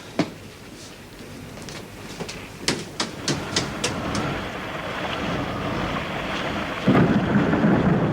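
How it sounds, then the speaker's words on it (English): Heavy rain pours down steadily with a series of sharp thunder cracks and rumbles near the start, then the downpour grows louder and denser, close and loud with no talking. "Rain's coming down in bucketfuls."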